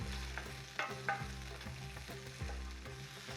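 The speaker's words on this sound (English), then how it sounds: "So we'll go in with the capsicum. We can hear that sizzle." Capsicum strips sizzle and fry in warm olive oil in a pan, with a steady crackling hiss and occasional louder spits as pieces are stirred; no talking.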